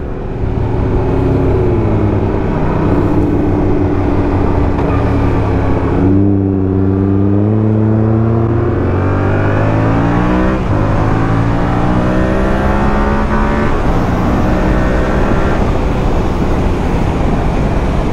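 An engine accelerates loudly and continuously, with rising and falling harmonic tones as it revs through gears, close by and alone, compared to a Yamaha MT-07 motorcycle.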